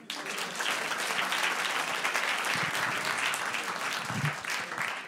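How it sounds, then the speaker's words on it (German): Applause from a comedy club audience in Berlin fills the room, a dense, steady wash of many hands clapping for about five seconds without talk. "Dicken Applaus für Sie."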